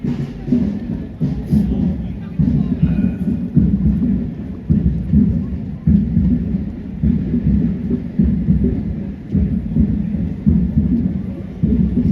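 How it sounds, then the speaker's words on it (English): Rain falls steadily outdoors at a street protest, a constant rumbling patter buffeting the mic with low, noisy texture throughout. "It's raining, so hopefully."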